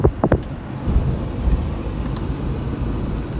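Lada Priora car driving at night, a steady low interior engine and road rumble heard from inside the cabin, with a couple of short knocks at the start.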